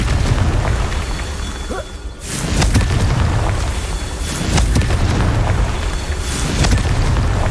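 Loud booming blasts from the Confringo explosion spell in the Hogwarts Legacy video game, several heavy bursts at roughly two-second intervals over a constant rumbling game background.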